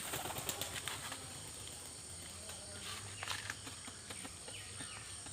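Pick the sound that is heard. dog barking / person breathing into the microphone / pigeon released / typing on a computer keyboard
pigeon released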